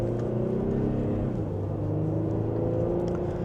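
A 2025 GMC Acadia AT4 in sport mode and second gear, heard from inside as a steady engine drone with a smooth rising pitch and road rumble underneath, no talk.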